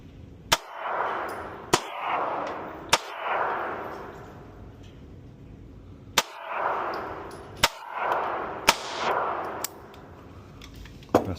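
Sharp, loud rifle shots from an Anderson Manufacturing AM-15, around seven irregularly spaced cracks, each followed by a booming, echoing tail at an outdoor range.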